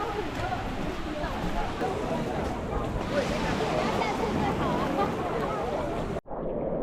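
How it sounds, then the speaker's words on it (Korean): Strong surf pounds a crowded beach at Kenting, Taiwan, a steady loud broadband wash of breaking waves with crowd murmur mixed in, cutting off abruptly near the end. "여긴 파도 진짜 겁나 세다"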